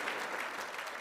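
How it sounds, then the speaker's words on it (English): Dense, steady applause from an audience as a volunteer comes up on stage, filling the whole moment with continuous clapping and no talk over it. "Big round of applause as she joins me, please."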